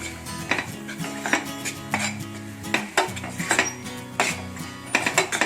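Spoon clatters against a pan in a steady run of sharp metallic scrapes and knocks as coriander powder, red chili powder and turmeric are mixed for South Indian mutton chukka, close and fairly loud with no talking.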